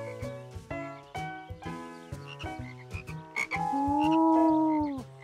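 Cartoon frogs croak from a pond where tadpoles have turned into frogs, with a run of short, rhythmic croaks followed by one long, drawn-out tonal croak, clear and fairly close against soft background music.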